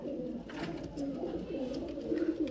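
Giribaj pigeons from Murshidabad cooing close by in soft, repeated low warbling phrases that run continuously through the moment.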